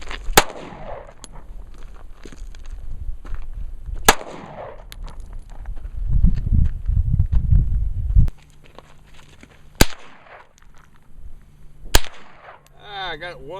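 Gunshots at an outdoor shooting range on Memorial Day: four sharp, widely spaced loud cracks over quiet outdoor ambience, with some rustling and handling noise in between.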